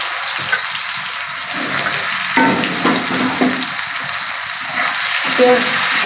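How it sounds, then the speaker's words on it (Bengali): Onion frying in hot oil with cinnamon and cardamom, a soft steady sizzle with occasional stirring scrapes and bubbling bursts, fairly close. "পেঁয়াজটা একটু ভাজা ভাজা হোক"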